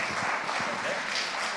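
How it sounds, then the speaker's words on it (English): Brief audience applause at a conference stage event, an even, continuous wash of many hands clapping at moderate loudness. "Big applause to Jaime, please."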